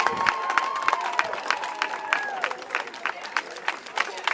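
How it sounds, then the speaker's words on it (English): Marching band members clap and cheer at the Macy's Thanksgiving Parade, steady crowd applause with scattered shouts, harmonic voice tones and a whistle-like glide mixed through, moderately loud and close. "So give yourselves a round of applause."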